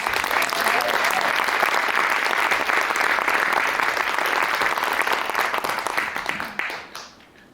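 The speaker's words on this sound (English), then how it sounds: "Please, a round of applause for" Theater audience at a 2024 all-ages poetry slam at Lost Nation Theater claps for a performer, a loud, even wash of applause that holds steady for several seconds before tapering off quickly at the end.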